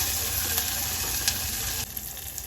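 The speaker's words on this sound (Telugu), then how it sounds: "తర్వాత కొంచెం కరివేపాకు వేసుకోవాలి. ఇవన్నీ దోరగా ఫ్రై చేసుకోవాలండి." Curry leaves and spices fry in oil for jeera rice, giving a steady, close sizzle with faint stirring.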